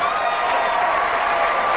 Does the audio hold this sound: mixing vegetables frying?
no